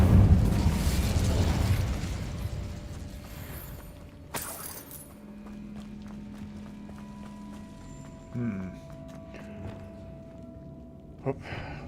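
Incendio fire spell cast in Hogwarts Legacy after a spider fight: a loud, roaring burst of flame for about two seconds that fades into a quiet scene with occasional sharp pops and clicks.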